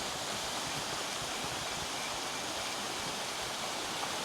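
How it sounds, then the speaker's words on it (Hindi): Water flowing steadily in a rainy tropical forest in Krabi, Thailand, giving a constant broadband rush like a stream or small waterfall, moderately loud and unbroken, with no voices. "इस तरह पानी बह रहा हो,"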